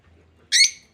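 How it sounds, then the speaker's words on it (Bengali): A small bird gives one brief, high chirp on a cold, overcast winter day, alone against near silence. "আমার ছোট্ট পাখিগুলো ঠান্ডাতে কি করছিস তোরা"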